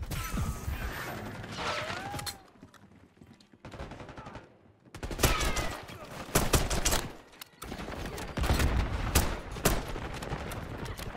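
Sharp pistol shots from a Makarov in Call of Duty: Black Ops 6 crack in clustered rapid bursts, separated by a quiet gap, amid in-game impacts and faint talk.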